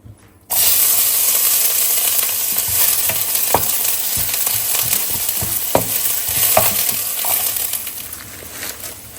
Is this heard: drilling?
no